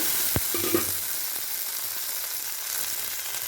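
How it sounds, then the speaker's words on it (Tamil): Cashews sizzle in hot ghee in a kadai for payasam, a steady close crackling hiss with a soft clunk near the start as the nuts go in. "அப்படியே கடாயில் கொஞ்சம் நெய் விட்டு இந்த முந்திரியை போட்டு"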